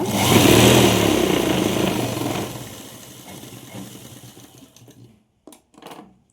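A sewing machine runs stitching a pant hem, a loud close whirring buzz for about two and a half seconds that slows and fades, then a few short quiet bursts of stitching after a pause.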